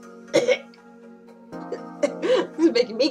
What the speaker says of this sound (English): This is making me cough.